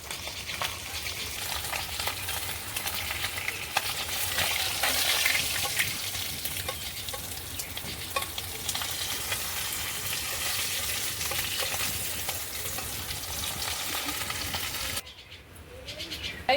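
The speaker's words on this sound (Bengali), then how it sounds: "বাকি মাছগুলো একইভাবে ভেজে নেব।" Koi fish fry in hot oil in a pan, giving a steady, dense sizzle and crackle up close that goes on for a long stretch, then drops suddenly near the end.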